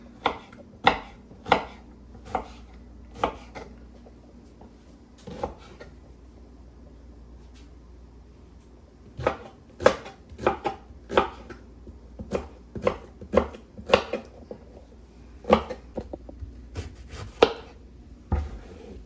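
Knife chopping onion and hot pepper on a board, a run of sharp, close, rhythmic cuts in quick bursts with a short pause midway, no talk.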